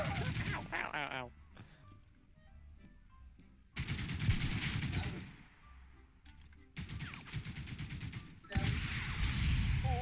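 Video game gunfire arrives in several hard, rapid bursts, the later ones long and dense, with quieter stretches of game sound between them.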